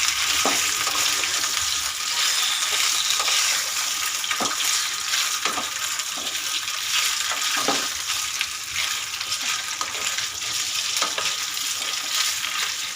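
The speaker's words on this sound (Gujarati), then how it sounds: "આવી રીતે આપણે આનો સરસ રીતે વઘાર કરી દઈશું" Steady loud sizzling of rice idli being tempered in a pan, with occasional scraping stirs and clinks, continuing without pause.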